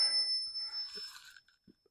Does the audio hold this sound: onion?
no